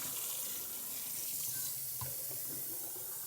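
Plain tap water from a sink runs steadily into a container, a continuous close hiss and splash with no talking.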